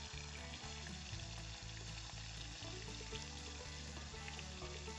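Prawns fry lightly in a pan for mustard prawns, a loud, dense, continuous sizzle close by with a low rhythmic bubbling underneath and no talk.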